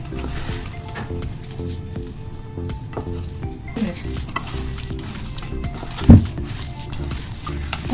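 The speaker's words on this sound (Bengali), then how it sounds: "চলো তাহলে বানিয়ে ফেলি পেঁয়াজ আর আলুর পকোড়া" Onion and potato pakoras frying in hot oil, a loud dense bubbling sizzle with intermittent stirring scrapes and a metallic clink, heard up close with no voices.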